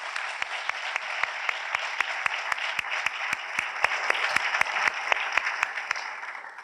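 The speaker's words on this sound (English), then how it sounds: "So just a round of applause for them" At a medical school white coat ceremony, a crowd applauds in sustained dense clapping, with a few distinct nearby claps standing out regularly over the steady wash of hands.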